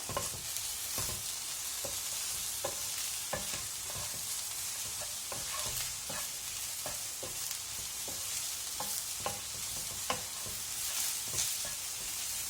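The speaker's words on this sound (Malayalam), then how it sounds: "നമുക്കിനി ഇത് നന്നായിട്ട് മിക്സ് ചെയ്ത് കൊടുക്കാം" Mushroom masala is stirred in a pan over a low, steady sizzle, with regular scraping and knocking of the spoon against the pan every second or so, fairly quiet and close.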